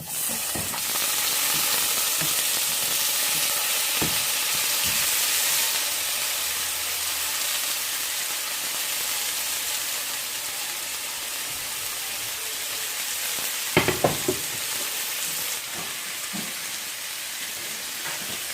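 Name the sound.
onions and tomatoes sautéing in a pan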